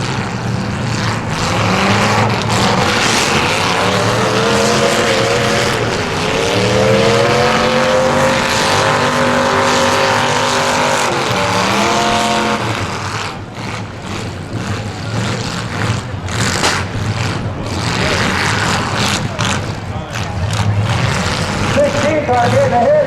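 Race cars roar around a dirt track during a 1980s-and-newer heat, several engines droning loud and continuous with rising and falling pitch as they pass, while an announcer calls positions over the noise.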